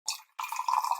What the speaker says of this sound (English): Transition for now because I want to pour more coffee.